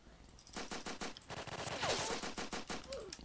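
Gunfire in a Roblox pistol-challenge match, a rapid string of sharp shots in quick bursts with short gaps, fairly close and punchy.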